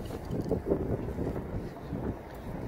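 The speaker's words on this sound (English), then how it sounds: "Getting windy." Gusty wind on a Toronto street near Sylvan Avenue and Dufferin Street buffets the microphone in uneven low rumbling bursts, loud and close, with no one speaking.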